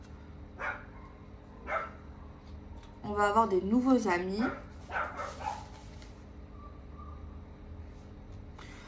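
A dog barks a short burst of several yips and barks at middle distance, with a few fainter barks before and after, while someone speaks French nearby.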